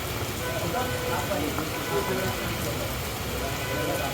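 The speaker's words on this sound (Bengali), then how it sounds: "বৃষ্টি তো মুসুল ধারে" A steady, dense hiss of heavy rain pours down continuously, with faint voices in the background.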